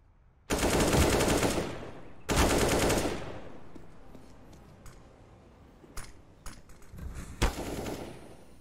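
Rifle gunfire from M4 and AK weapons in a Counter-Strike match: two loud sustained automatic bursts, then scattered lighter clicks and single shots with a final sharp crack.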